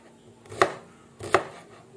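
A knife chops onion finely on a board with two sharp, close taps about three-quarters of a second apart. The second tap is slightly softer, with quiet room noise between them.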